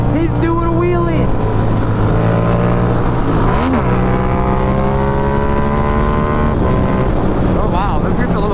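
A motorcycle engine revs loud and close while the rider pulls a wheelie, its droning, pitch-shifting note running continuously, with a speaking voice over it.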